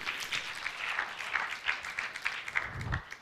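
Audience applause at a book launch event, moderately quiet, dense clapping that rises and falls in small surges throughout.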